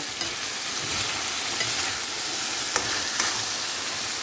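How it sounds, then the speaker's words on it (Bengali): Rui fish fries in a pan with a loud, unbroken sizzle and spitting oil close up, occasional faint clicks over the steady hiss, with no one speaking. "রুই মাছ রান্না করব, একদম ফার্স্টে হচ্ছে ভেজে নিয়েছি"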